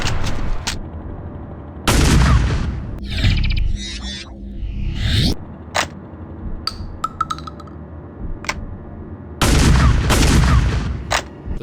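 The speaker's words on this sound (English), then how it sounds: "1 year later and the pump action returns. Same as what you get in the original game really, but we get a much better model and slightly nicer shot sound this time." Pump-action shotgun from The Suffering: Ties That Bind, fired three times in loud, widely spaced blasts with mechanical clinks and pump-action clatter between shots.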